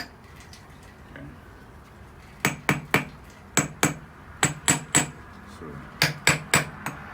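A hammer taps metal bolts into alignment on a Ford B2300 pickup in a series of sharp ringing strikes, some in quick pairs and triplets, after a quiet start and a brief spoken word.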